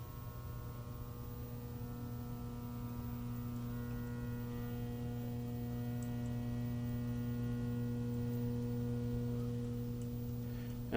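A steady low electrical hum with strong harmonics from a degaussing coil on a vintage color television powered through a variac, continuous and even for the whole stretch.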